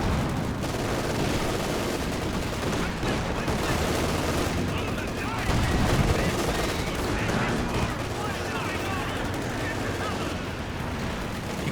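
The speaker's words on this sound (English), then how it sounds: "looks like a light artillery barrage coming in from the Austria player" A light artillery barrage in the video game Company of Heroes 2 rumbles with dense, continuous booms and gunfire, loud and sustained, while a caster talks over it.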